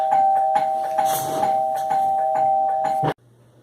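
A home doorbell rings insistently, its electronic chime repeating about seven times in quick succession, loud and close, then cutting off abruptly into near silence.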